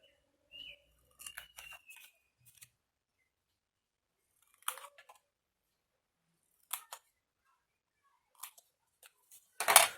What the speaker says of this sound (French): Et là, on va couper le carré.